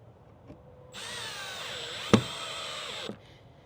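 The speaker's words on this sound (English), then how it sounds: "We're gonna take a screw, take our screwdriver," A battery power screwdriver whirs for about two seconds, driving a screw into a Morryde Safe-T-Rail entrance handle on an RV, with its pitch dropping as the screw seats, a sharp knock midway and a click as the motor stops.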